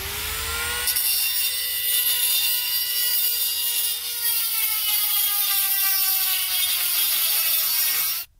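Dremel rotary tool grinding to widen the rear axle holes in a motorcycle swing arm on a Hawk 250 supermoto build, a steady high-pitched whine with a slowly falling pitch that runs continuously for about eight seconds and cuts off abruptly.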